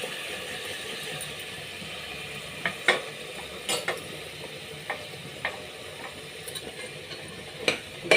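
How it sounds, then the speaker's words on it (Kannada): Vegetables for pulao fry in a pan with a soft, steady sizzle, while a spoon scrapes and taps against it in scattered clicks. "ಇದು ಚೆನ್ನಾಗಿ ಫ್ರೈ ಆಗಲಿ."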